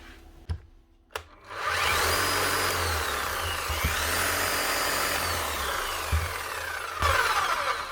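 A demolition hammer power tool starts after a few knocks and runs with a loud, steady motor whine and rattling buzz, continuing for several seconds with small shifts in pitch.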